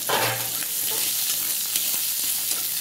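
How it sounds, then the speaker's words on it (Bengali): Onions frying in a pan for a simple vegetable curry: a bright, steady hiss of sizzling oil with faint stirring scrapes, close and continuous, with no talking. "পেঁয়াজটাকে লাল লাল করে ভালো করে ভেজে নেব"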